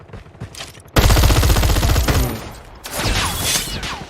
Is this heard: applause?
no